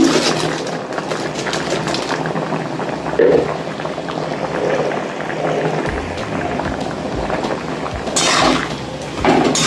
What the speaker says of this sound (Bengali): চিনি দিয়ে এবার আমি একটু ফুটতে দেবো